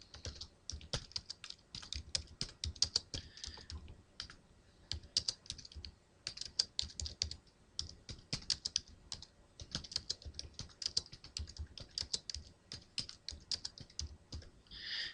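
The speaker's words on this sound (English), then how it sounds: "I'm just going to type it in here." Fingers type a passphrase on a computer keyboard, a close, quiet stream of irregular key clicks in short runs with brief pauses across the whole stretch.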